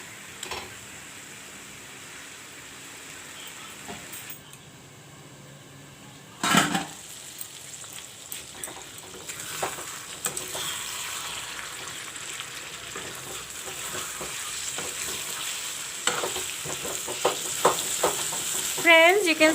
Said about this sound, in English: let this chicken fry with the masala